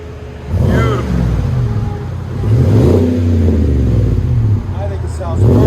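A Chevy/GMC truck with a 6.6L V8 and Vibrant Street Flow exhaust revs in deep, rumbling surges that rise and fall over a steady idle, close and loud, while people talk over it.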